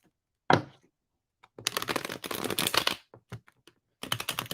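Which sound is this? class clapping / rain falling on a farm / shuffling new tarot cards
shuffling new tarot cards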